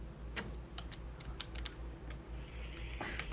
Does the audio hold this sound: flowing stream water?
no